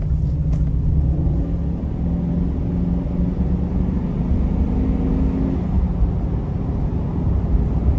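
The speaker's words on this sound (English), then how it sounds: "really good sound coming from the powertrain" Powertrain of a 2021 Explorer Chevrolet Express 2500 conversion van while driving, heard from inside as a loud, steady low engine and road rumble that holds even throughout.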